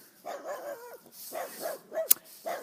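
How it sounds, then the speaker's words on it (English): A dachshund indoors barks close by in a rapid series of about four sharp yaps with short gaps between them, heard alone without speech. "I'm being attacked by a sausage dog."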